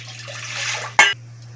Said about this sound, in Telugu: 3 గ్లాసులు వాటర్ కూడా వేసుకోవాలండి